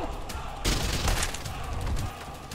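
Gunfire in the shooter video game Trepang2, a dense burst of loud shots and booming impacts over steady game noise, with a brief voice near the start.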